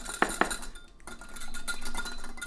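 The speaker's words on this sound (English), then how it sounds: "once we have all our ingredients in our measuring cup, we're going to whisk it together." A whisk works through a quinoa salad dressing in a measuring cup, with two sharp clinks at the start, then a quick rhythmic scraping and tapping against the cup, close and clear.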